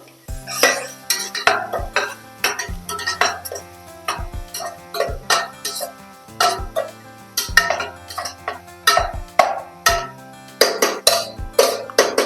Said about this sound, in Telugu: మనం ముందుగా కట్ చేసి పెట్టుకున్న ఆనియన్స్ బాగా కలుపుకుందాం